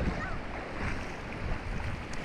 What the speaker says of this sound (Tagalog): Dito guys, maalon. Talagang maalon ngayon.